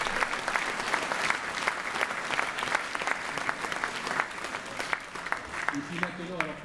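A hall audience at a mayor's New Year wishes ceremony applauds a Miss France winner, steady sustained clapping at moderate distance, with a voice starting to speak over it near the end.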